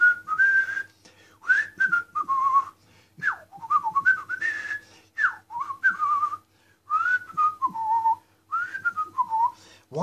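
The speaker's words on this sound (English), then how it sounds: "we'll just whistle a tune" Someone whistles a meandering tune alone, phrases rising and falling with short pauses between them, fairly close and clear.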